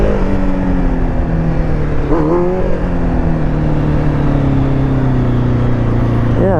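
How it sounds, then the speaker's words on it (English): A motorcycle coasts along a road with a loud, steady rush of wind and road noise, while a faint engine whine slowly drops in pitch. "Let's test the coastability on this bike."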